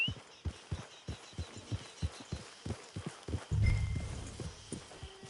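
Horse hooves clip-clopping at a steady walking rhythm, close and distinct, with a louder rumbling burst joining near the end.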